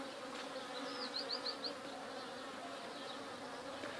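Honeybees crowd the landing board of an apiary hive, giving a faint, steady, layered buzz with a few brief louder flybys close by.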